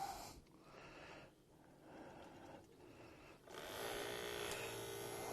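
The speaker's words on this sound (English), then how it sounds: "Turn the pump on." A vacuum pump runs during a Gree single-zone mini-split installation, a faint wheezing, breathy drone that dips several times before settling into a steadier, louder hum.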